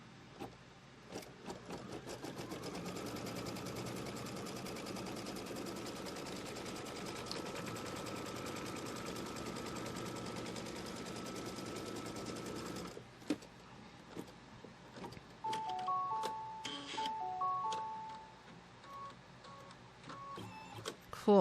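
A sewing machine tacks down quilt fabric for a Halloween pumpkin quilt in a long, even motorized run that halts abruptly, followed by a few clicks and brief soft beeps.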